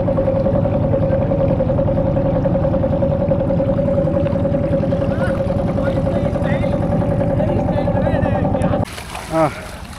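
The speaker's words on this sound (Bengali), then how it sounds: "আমাদের নৌকা সামনে চলছে আর আমরা আছি নৌকায়" A motor boat engine drones steadily on a river, loud and close with a constant low hum, then cuts sharply near the end, leaving water and faint movement sounds.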